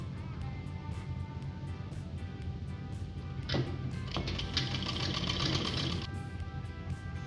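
Sewing machine stitching the lining of a tunic shoulder to shoulder, a steady close mechanical whir with rapid needle ticking throughout, rising slightly in the middle, no talking.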